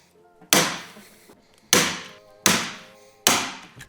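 Four sharp metallic riveting pops, irregularly spaced, each ringing briefly before fading, while Catalyst running boards are fastened into freshly drilled holes.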